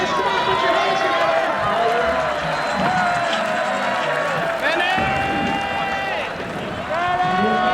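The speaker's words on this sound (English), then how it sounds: "Make some noise. Come on, put your hands together." Crowd at an aggressive inline skating event cheering and clapping for a skater, a steady roar of voices under an announcer talking loudly over the noise.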